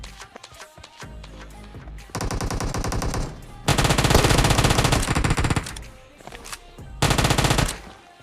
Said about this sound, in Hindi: आपको एकेएम की साउंड आ गई होगी